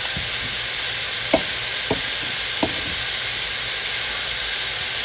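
Pork and vegetables stir-frying in a pan, a loud continuous sizzle and hiss with a few soft knocks of a utensil against the pan.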